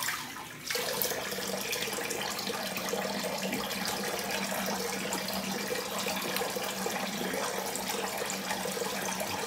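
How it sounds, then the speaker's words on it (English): Cold water runs steadily from a tap for a rinse after a wet shave, a continuous close hiss and splash that starts abruptly and holds at an even level throughout, with no voices. "Cold water rinse."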